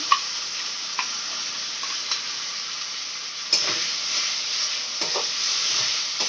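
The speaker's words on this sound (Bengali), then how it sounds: "পেস্টটা দিয়ে ভালো করে কষিয়ে নিচ্ছি মশলার সাথে" A ground paste of onion, ginger, garlic and tomato sautés with spices in a pan, producing an even, close sizzling hiss punctuated by occasional soft spoon taps and stirring bumps.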